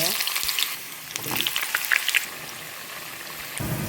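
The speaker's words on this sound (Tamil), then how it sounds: "இப்போ ரெண்டாம் தடவை பொறிக்கிறேன்" Kohlrabi pieces sputter and crackle as they deep fry in hot oil in a pan, a steady close sizzle with brief louder bursts of popping.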